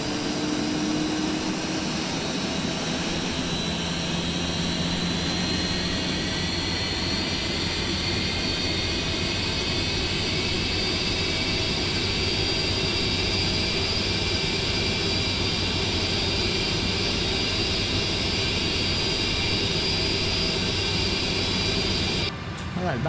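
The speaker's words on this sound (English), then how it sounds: "It takes a little while for the engines to spool up." Steady, loud Boeing 747 jet engine roar with a rising whine as the engines spool up in a flight simulator, continuous and close, holding at high power throughout with no talking.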